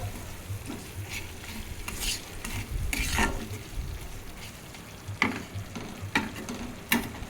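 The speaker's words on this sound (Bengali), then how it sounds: "ঢাকা দিয়ে ভালোভাবে মশলাটা আমি কষিয়ে নেব" Spice masala with yogurt sautés in a pan for doi chicken, a soft continuous sizzle broken by scraping stirs and sharp spoon taps against the pot at irregular intervals, close and fairly quiet.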